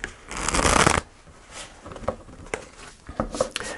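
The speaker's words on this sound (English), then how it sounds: "So I'm going to pull three cards" Tarot cards being shuffled and pulled: a loud riffling burst at the start, then softer scattered card flicks and slides, close by with no talking.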